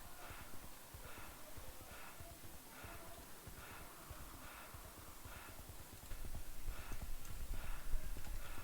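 Galloping horse hooves from a video game, a steady rhythmic clip-clop under continuous game noise, growing a little louder toward the end.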